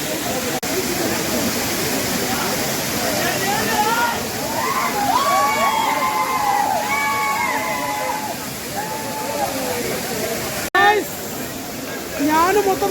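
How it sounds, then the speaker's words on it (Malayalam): Crowd bathing at Kutralam waterfall on a day of low flow: steady rushing, splashing water fills the scene, with a busy murmur of many voices, shouts and whistles of bathers mixed in throughout. "ഇവിടെ നല്ല വെള്ളച്ചാട്ടം, വെള്ളം കുറവാണെങ്കിൽ പോലും ഇവിടെ നല്ലൊരു വൈബിൽ ഇവിടെ കുളിക്കാൻ പറ്റുന്നുണ്ട്."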